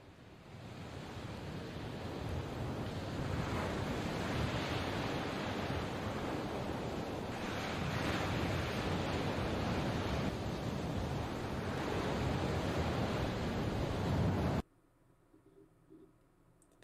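Steady broadband ocean surf washes continuously for about fourteen seconds, loud and unbroken, then cuts off abruptly to near silence.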